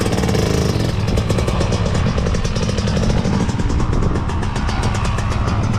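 A Yamaha YZ two-stroke motorcycle engine runs loud and close at a motorbike festival in Swansea, its rapid raspy buzz steady and continuous with no talk over it.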